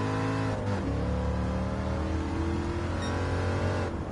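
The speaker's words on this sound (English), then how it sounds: "to have a nice sound of a V8 engine" A naturally aspirated V8 muscle car engine with a stock muffler in Gran Turismo 7 holds a steady, loud droning rumble. It eases back briefly near the start, then climbs slowly in pitch as it revs, with no talk over it.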